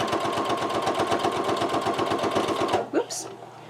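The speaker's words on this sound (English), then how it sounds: "It's just doing a nice clean seam, straight seam down the edge of the strip." A sewing machine runs a straight seam along a quilt strip for quilt-as-you-go block assembly, a fast steady mechanical chatter close by that stops abruptly, followed by a short squeak and faint handling.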